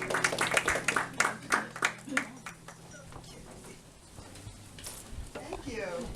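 Live concert audience clapping for a performer called to the stage at a memorial concert, dense applause at first that fades to a quieter room with a voice beginning to speak near the end.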